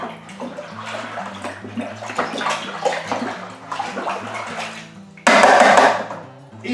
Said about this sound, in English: We're gonna give this a good stir in as well.